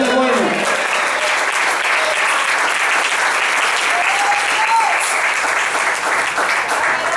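A church congregation claps at a special service, with sustained loud applause filling the whole stretch and a brief voice at the very start.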